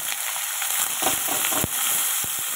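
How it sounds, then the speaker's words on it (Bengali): Sliced potatoes hit hot oil tempered with dry red chillies and nigella seeds, giving a steady bright sizzle with scattered pops and crackles, close and loud, no voices. "শুকনো লঙ্কা কালো জিরে ফোড়ন দিয়ে এই যে এটা ঢেলে দিচ্ছি"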